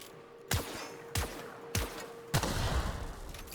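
Four separate gunshots in the video game The Outer Worlds, spaced roughly evenly, each a sharp crack with a short echoing tail, the last followed by lingering noise.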